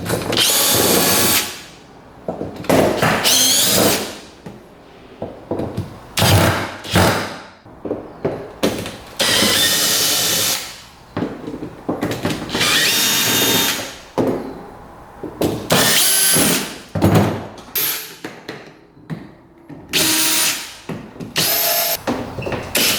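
Power drill running in repeated bursts as screws are backed out of the bed of a used UTV, loud and close, with brief pauses and clatter between runs and no talking.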